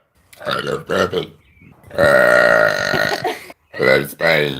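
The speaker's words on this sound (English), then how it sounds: "I love burping." A woman burps loudly and close, one long drawn-out belch lasting over a second, with short bursts of talk before and after.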